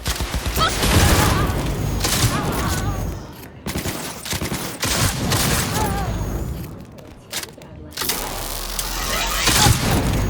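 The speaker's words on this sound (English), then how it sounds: "I particularly love how it looks and sounds, a real showcase for this game and a rare piece of unique shotgun weapon design" Shotgun fire in a first-person shooter game: several loud, close blasts in quick bursts, separated by brief gaps, with mechanical reload clicks and clatter between shots.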